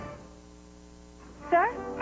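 Small yappy barks from poodle-shaped novelty slippers in a TV commercial, two short bursts after a stretch of quiet background.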